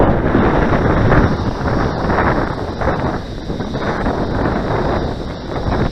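Strong heavy wind buffets the microphone in a loud, continuous rumbling roar with gusting swells, drowning out everything else at an RC jet flying field.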